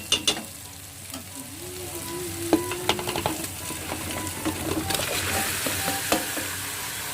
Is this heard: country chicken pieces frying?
yes